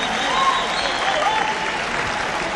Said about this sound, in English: A round of applause, ladies and gentlemen, for the ladies giving you their opening dance